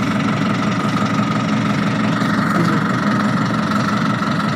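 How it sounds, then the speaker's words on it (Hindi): A tractor engine runs in gear while its PTO shaft spins, making a steady, loud, continuous mid-to-low drone with a slight knock. No voices are heard. "अब ट्रैक्टर को गियर पे लगा के मूव करके देखते हैं।"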